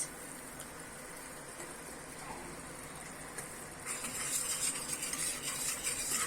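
Flour roasting in a pan with oil and salt for a grandmother's homemade dessert, stirred continuously with a spoon that scrapes the pan steadily, while a soft sizzle grows louder in the last couple of seconds.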